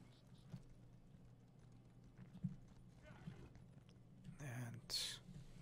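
Horse hooves trot in a video game as faint, rhythmic clip-clops under low voices and quiet background noise, with a few louder clatters near the end.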